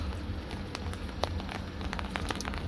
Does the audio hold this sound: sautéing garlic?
no